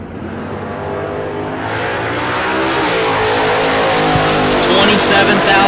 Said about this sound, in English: John Tobias, 620 dial in the shorty front brake dragster.